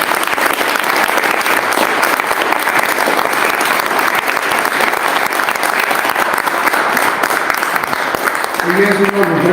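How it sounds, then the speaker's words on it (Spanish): Loud, sustained applause from a large audience at a conference in Chihuahua, filling the whole stretch as a dense continuous wash of clapping, with a voice rising briefly near the end. "Yo creo que le damos un fuerte aplauso, por favor"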